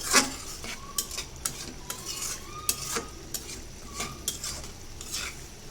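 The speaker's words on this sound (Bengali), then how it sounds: "তরকারিটা বসাই দিয়েছি মাছটা কষায় উঠায় ফেলাইলাম" Fish curry with tomato cooks in a pan at home, with soft sizzling under repeated scraping and clinking stirring strokes from a utensil, close and fairly quiet.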